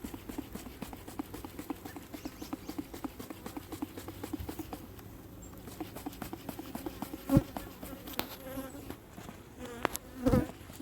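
Honeybees buzz steadily around an open hive during a Varroa mite check, a dense close-up drone with individual bees zipping past and occasional clicks and taps.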